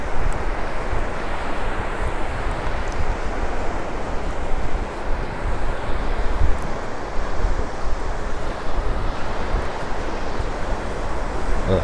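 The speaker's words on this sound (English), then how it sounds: "So I hope my lavalier mic is trimming some of this wind noise down." Steady roaring wind buffeting the microphone at a dog-friendly beach park, with continuous surf rushing underneath, loud and unbroken with no talk.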